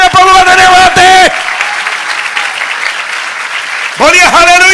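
A church congregation clapping loudly during a worship service, a burst of sustained applause between stretches of a man's loud sung or chanted speech at the start and end.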